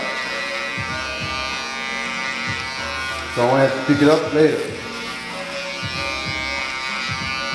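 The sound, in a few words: electric shaver buzzing during haircut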